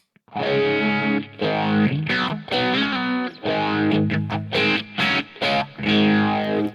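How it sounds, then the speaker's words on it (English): Distorted electric guitar playing chords and short riffs with a swirling, sweeping phaser tone placed before the amp, loud and continuous with brief gaps between phrases. "this will turn the phaser on"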